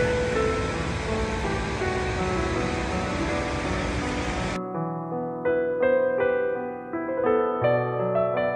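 Sea waves washing onto the shore, a steady broad roar of surf for about four seconds that cuts off abruptly, leaving only music afterward.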